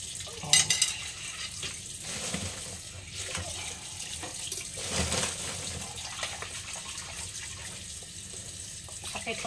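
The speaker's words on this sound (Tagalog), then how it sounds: "Hugas muna tayo ng pinggan" Dishes are washed by hand under running tap water at a kitchen sink, a steady faint hiss of flowing water with occasional clinks and scrapes throughout.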